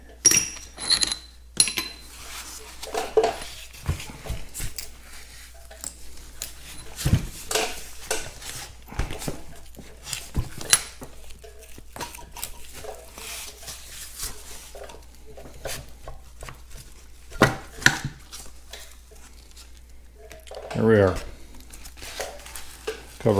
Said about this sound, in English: I'm going to just take the pump cartridge off of the cover